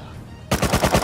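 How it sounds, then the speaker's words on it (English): Rapid automatic gunfire from the survival game Rust breaks out suddenly after a quiet moment: a loud, close string of evenly spaced shots. "Who's shooting?"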